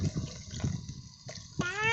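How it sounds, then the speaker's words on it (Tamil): Water pours into a cooking pan while broad beans are prepared for a village-style poriyal, a short splashing gush that ends with a rising filling tone. "ரெண்டு டம்ளர் தண்ணி ஊற்றி"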